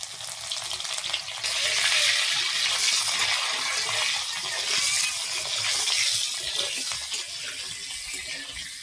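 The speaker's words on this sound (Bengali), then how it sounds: "তেলে আমি ফুলকপিটা ভেজে নেব" Turmeric-coated cauliflower frying in oil, a loud, continuous close sizzle that swells after the first second and holds steady, with no voices.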